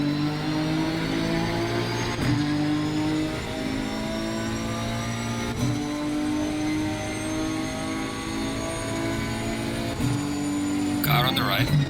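A Nissan GTR GT3 race car in Assetto Corsa Competizione at Kyalami launching from a race start, the engine revving hard through rising gear pulls with sharp upshift breaks, loud and close, other cars roaring nearby.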